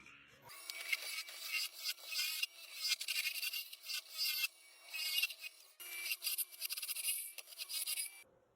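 Rough, rasping scrapes of a swan neck lathe tool cutting into spinning wood, coming in uneven bursts with brief pauses between passes.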